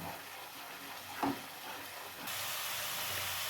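Masala cooking down in a pan after a splash of water gives a steady, close sizzle and hiss, with a brief stirring scrape partway through and the frying growing louder toward the end.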